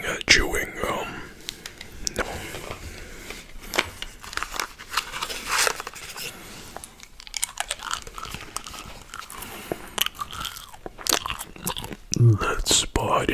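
Close, intimate gum chewing with wet smacks, crunches and bites in an irregular rhythm, mixed with soft whispering.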